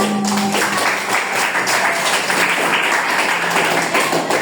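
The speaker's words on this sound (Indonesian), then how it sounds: "beri tepuk tangan untuk kelompok 1" Sustained applause fills a classroom as students clap for the first group after its financial literacy presentation; the dense, even clapping is loud and steady throughout, with no voices standing out.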